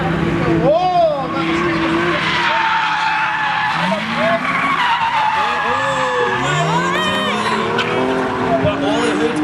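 Drift cars at a Scottish drift championship round skid through a corner with loud, sweeping tire squeal and revving engines, a commentator talking excitedly over the action throughout.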